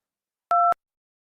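A brief dual-tone telephone beep, like a keypad dial tone, sounds alone for about a quarter second in the middle of near silence, in a Hindi comedy sketch set around a phone call.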